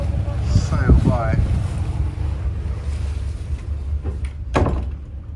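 Wind and water rush steadily past a cruise boat sailing on Ha Long Bay, a loud, close rumble of wind noise with a voice briefly heard over it.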